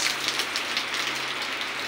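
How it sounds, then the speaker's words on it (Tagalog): Steady rain falls outside a house, a close, even hiss that holds without a break from start to finish, with no voices. "Ayan, maulan."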